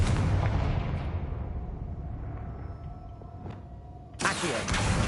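Confringo fire spell blast in Hogwarts Legacy gameplay: a loud, booming burst that decays into a long rumbling roar, then a second sharp impact near the end.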